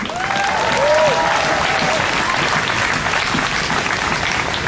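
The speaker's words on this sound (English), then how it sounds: "Round of applause for Haley" Crowd at a defund-the-police rally applauds a speaker named Haley as she steps to the mic: loud, dense, sustained clapping, with a few whistles rising over it early on.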